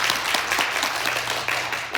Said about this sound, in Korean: 우리 허유미 사장님께도 큰 박수.